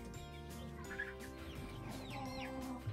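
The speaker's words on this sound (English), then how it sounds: "Got some chickens." Chickens cluck in a farm setting, several birds making overlapping low, throaty clucks at close to moderate range amid a steady murmur of background noise.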